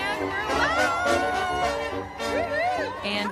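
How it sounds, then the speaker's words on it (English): A big crowd gathered outdoors in Jackson Square makes a dense hubbub of babble and cheering, with a near voice and loud chatter rising over it throughout. "Big crowd here in Jackson Square."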